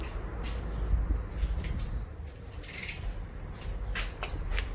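Hard side plastic of a BMW E90 3 Series inner door pull being cut, heard as a run of sharp snipping and crunching clicks at close range over a steady low background hum, with no talking.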